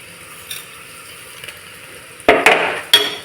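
Onions with rock salt fry in a pressure cooker under a faint, quiet sizzle, then two or three sharp scraping stirs ring out near the end.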